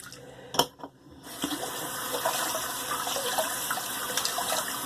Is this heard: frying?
no